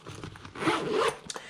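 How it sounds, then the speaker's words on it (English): A zipper on the outer expandable pocket of a Viking sissy bar bag for a 2018 Indian Scout Bobber is pulled in one quick, close rasping stroke, followed by faint handling clicks. "So you've got these outer zipper that allows you to expand the pocket bigger"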